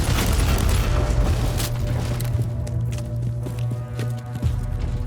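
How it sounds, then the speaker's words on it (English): Heavy booming blasts and rumbling impacts from game combat, loud and close, with scattered thuds and crackles over a low drone. "Time for some more explosions."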